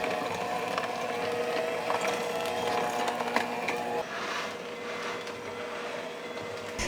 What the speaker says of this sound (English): For this recipe, I'm using a hand mixer